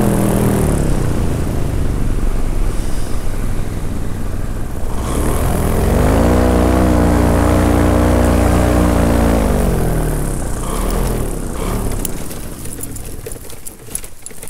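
A paratrike's engine drones loudly and steadily as it comes in to land on a craggy 8,600 ft mountain peak, its pitch climbing and falling through the approach before the sound eases near the end.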